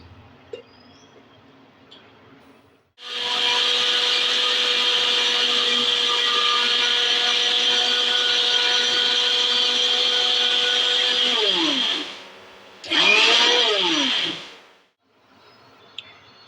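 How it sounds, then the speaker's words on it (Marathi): An electric mixer grinder whirs loudly as it grinds dry buttermilk masala spices, running steadily for about nine seconds, cutting out, then giving a short second burst before winding down to quiet. "आता आपण मिक्सर लावून घेऊया आणि बनवूया ताकाचा मसाला"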